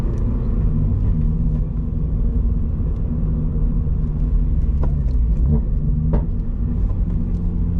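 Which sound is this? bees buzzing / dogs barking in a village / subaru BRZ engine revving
subaru BRZ engine revving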